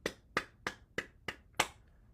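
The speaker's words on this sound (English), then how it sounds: "clap again" Six sharp, evenly spaced hand claps, about one every third of a second, close and crisp, during a morning tapping and bouncing exercise routine, with no talking.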